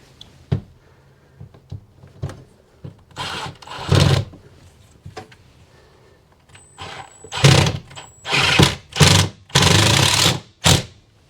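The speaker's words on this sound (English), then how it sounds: "get a screw in here on this bottom side." A power drill drives screws into a window frame on a cargo trailer camper conversion, buzzing in several loud, separate bursts with quiet pauses and small knocks between them.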